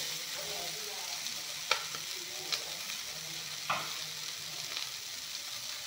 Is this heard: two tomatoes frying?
yes